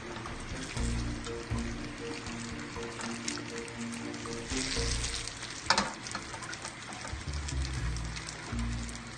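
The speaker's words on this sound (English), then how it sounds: "Fry them until ready." Rice cakes fry in a pan with a steady, crackling sizzle of hot oil, a low hum underneath and occasional brighter spatters and a sharper knock partway through.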